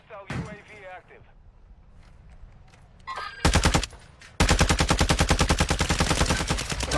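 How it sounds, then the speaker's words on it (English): Rapid gunfire in a video game battle: scattered shots, then a loud burst near 3.5 seconds, then sustained close automatic fire running steadily to the end. Faint voices come through early on. "Guy's shooting all over the spot."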